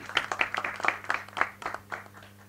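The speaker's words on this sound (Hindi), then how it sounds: "प्रिय दोस्त जिशान कादरी, जोरदार तालियां इनके लिए।" Scattered clapping from an audience at a film trailer launch, a light patter of hands that rises and falls over a low steady hum.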